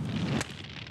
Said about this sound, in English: Balls of fire.